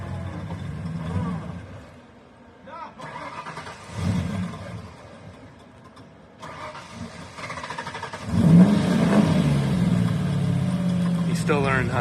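A stuck car with a manual transmission revs in bursts as the driver tries to get it out, the engine rising and falling and then building to a louder, sustained rev near the end.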